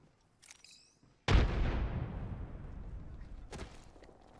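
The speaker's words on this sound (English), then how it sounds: "Throwing frag." A frag grenade goes off in the Apex Legends video game with a sudden loud boom and a long rumbling decay, after a faint click-like handling sound; a second crackling burst rises near the end.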